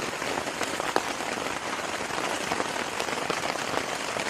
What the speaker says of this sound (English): We have water under the tent, but it hasn't came through anywhere.